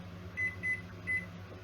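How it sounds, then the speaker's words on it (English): A microwave oven cooking rice hums steadily at a low level, and a few short electronic beeps sound over the drone. "And now you chuck it in the microwave."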